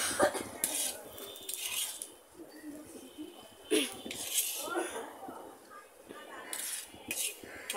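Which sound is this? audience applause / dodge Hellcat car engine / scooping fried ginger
scooping fried ginger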